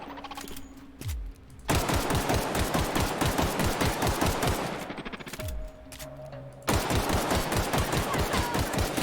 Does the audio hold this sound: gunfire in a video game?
yes